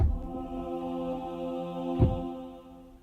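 A dry cinematic choir sample chord with its default reverb switched off sounds and then cuts off quickly, with no lingering tail; a short low knock lands near the end.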